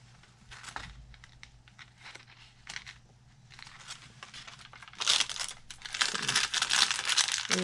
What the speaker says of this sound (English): Lovely crunchy paper.